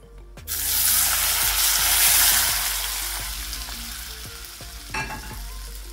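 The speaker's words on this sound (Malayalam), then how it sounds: "ഇത് നമുക്ക് മുളക് പൊടി മിക്സ് ചെയ്തിട്ടുള്ള മാങ്ങയിലേക്ക് ചൂട്ടോട് കൂടി തന്നെ ഒഴിച്ചു കൊടുക്കുക" Hot mustard seed and curry leaf tempering poured onto chilli-mixed mango for pickle, a sudden loud hiss and sizzle that erupts at once, then slowly fades with light crackles and a brief stir near the end.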